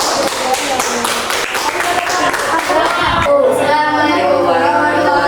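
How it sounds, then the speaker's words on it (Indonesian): A classroom of pupils claps for Muhammad Mustafa, a burst of scattered hand claps that settles into softer tapping while voices chatter over it. "Beri tepuk tangan untuk Muhammad Mustafa."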